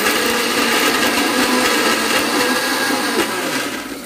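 A mixer grinder blends cooled masala with a little water, its motor roaring loud and steady at close range for several seconds before easing off at the end; no voices.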